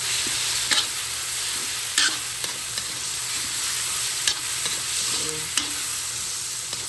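Small pieces of chicken breast sauté in a pan with a steady sizzle, broken by several sharp clinks and scrapes of a utensil stirring, with no voices.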